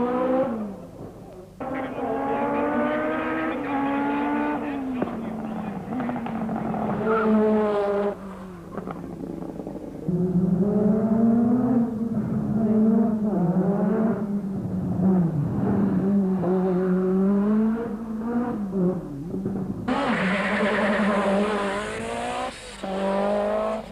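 Peugeot 205 Turbo 16 E2 rally cars racing at the 1986 Rally New Zealand, loud engines revving and climbing through gears up close, with sharp pitch sweeps and a fresh burst of acceleration near the end.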